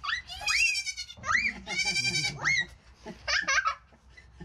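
A young female goat bleats close by: several loud, quavering cries in quick succession, each rising and wavering, with short gaps between them.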